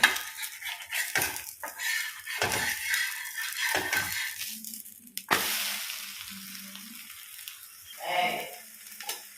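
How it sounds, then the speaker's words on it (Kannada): Masala rice roti cooks on hot tawas in a home kitchen, with soft sizzling, scraping and clinking of a metal spatula against the pans, plus a few sharper clatters of utensils. "ನಾನಿಲ್ಲಿ ಎರಡೆರಡು ತವದಲ್ಲಿ ಬೇಗ ಬೇಗ ಫ್ರೈ ಮಾಡ್ತಿದ್ದೆ"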